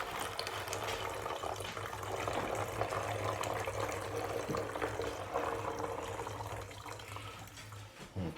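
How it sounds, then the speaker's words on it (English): Vinegar pours steadily into a bottle for a chemical reaction rocket, a continuous close trickle and splash with a low hum underneath, no talking. "I'm just going to go ahead and pour in a fair amount."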